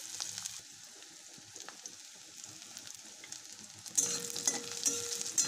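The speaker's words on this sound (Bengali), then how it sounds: "এখানে কাঁচা লঙ্কা, পেঁয়াজ, তেজপাতা দিয়ে ভালো মতন ভেজে নিচ্ছি।" Green chilli, onion and bay leaf fry in oil with a soft, close sizzle and a few stirring scrapes, growing louder and more crackly near the end as a faint high tone cuts in; nobody speaks.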